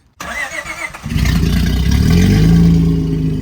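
A Honda Accord with a bolt-on J35 engine and open exhaust, no muffler, cranks and fires up loud and close, settling into a deep, rumbling idle.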